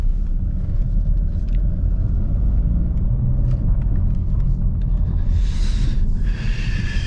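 A 2021 Opel Insignia on 18-inch wheels travelling over a badly broken road, heard from inside as a loud, constant low rumble of tyres and suspension with intermittent knocks and thumps.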